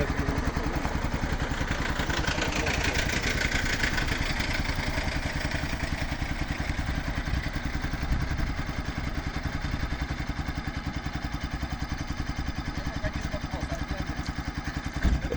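A Viper ZS 200 motorcycle engine runs nearby, a loud, steady, rapid throbbing idle that holds an even rhythm for the whole stretch.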